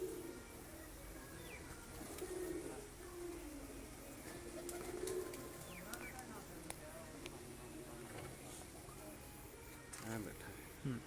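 Pigeons cooing on a rooftop, soft low repeated coos that come and go faintly beneath people talking, in a quiet outdoor setting.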